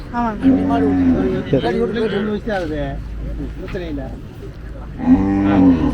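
Cattle moo loudly and close at a village cattle market in Palayakottai, with deep, drawn-out calls at the start and again near the end amid people chattering nearby.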